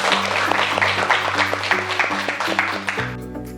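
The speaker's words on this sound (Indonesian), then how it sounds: "kita aplaus untuk kita semua dulu" A group applauds at the close of a practical teaching session, dense steady clapping over a soft musical backing that carries on alone once the clapping cuts off near the end.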